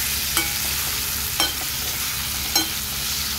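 Stuffed brinjal and potato curry being stirred in a pan, three soft scraping strokes spaced about a second apart over a steady low background hum, with no voices.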